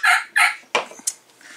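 A wild turkey gobbles in several short calls in quick succession during Pennsylvania spring turkey season, a couple of loud harsh bursts followed by fainter calls, with no talking.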